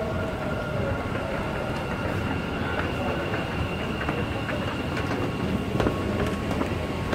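A train rolls past near Baniyas Square in Dubai with a loud, steady broadband rumble and rail noise, overlaid by faint high squeal tones and occasional clicks from the wheels, unbroken throughout.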